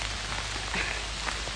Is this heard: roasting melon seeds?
no